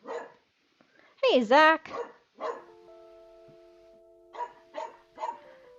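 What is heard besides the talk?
dog barking down the street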